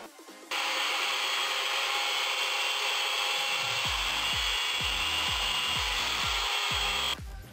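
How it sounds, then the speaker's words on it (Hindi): A 3-inch diameter PVC pipe is cut at the 7-inch mark with a close, loud, steady grinding whine that runs for more than six seconds, joined midway by a rhythm of repeated low thumping strokes before it stops abruptly. "दोस्तों, पाइप हमने कट कर लिया है 7 इंच पे"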